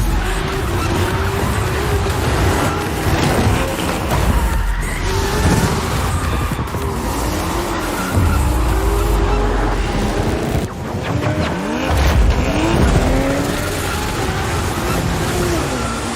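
Cars drifting in a drift race, with tires screeching and wailing in long rising and falling squeals over loud engine roar, continuous and close throughout.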